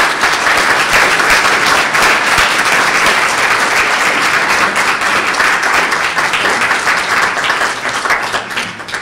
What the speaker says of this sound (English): also thank George with your generous applause